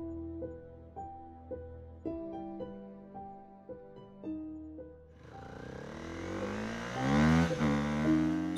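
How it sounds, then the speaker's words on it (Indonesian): After a few quiet musical notes, a motorbike engine roars up at night, swelling into a rising, revving whine that grows louder over the last few seconds. "Suara motor Solihin meraung, memecah keheningan malam menuju rumahnya di komplek mangkrak yang sepi"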